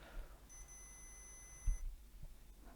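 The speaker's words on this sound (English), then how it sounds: "I have a continuity mode on this multimeter." A multimeter in continuity mode gives one steady electronic beep of about a second and a half. It is faint and sits under low background noise, with no speech.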